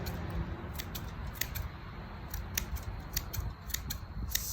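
Hand shears snip a topiary shrub in a garden, a steady run of crisp close clicks at an irregular pace over a low outdoor rumble.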